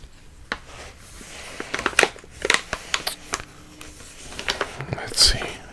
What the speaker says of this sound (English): I want to make sure I cut it open without cutting the Ziploc part.